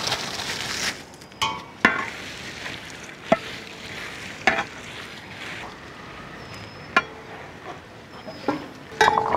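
Dried red chillies fry in pure sesame oil in a village kitchen pan, a soft crackling sizzle marked by scattered clinks and stirring knocks, with no talking.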